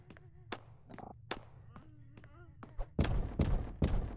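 Sharp, loud claps ring out in the horror video game Urge, spaced irregularly at first, then coming in a denser, louder burst of impacts near the end over a low rumbling game background.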